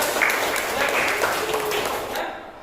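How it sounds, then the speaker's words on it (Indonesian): Students in a classroom clap together at a teacher's prompt, a dense burst of clapping that carries for about two seconds before cutting off. "tepuk tangan ya"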